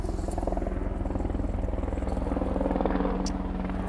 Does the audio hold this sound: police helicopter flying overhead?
yes